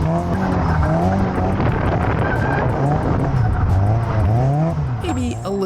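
A car drifts with the throttle doing much of the steering, its engine revving loud and close as the tires squeal and skid continuously, with wind buffeting the microphone.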